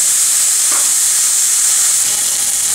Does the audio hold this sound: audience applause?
no